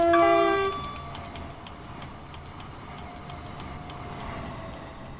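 A train rushes past in Train Simulator on the South West Main Line, opening with a sharp multi-tone horn blast and settling into a steady rumble with rhythmic rail clicks, loud and close.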